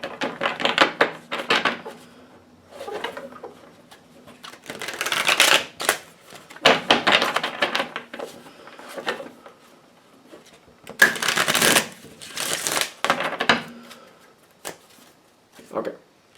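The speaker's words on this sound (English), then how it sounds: "I forgot to shuffle these on camera." Deck of tarot cards being shuffled by hand, repeated bursts of crisp riffling and flicking close to the microphone, uneven in rhythm with pauses between shuffles.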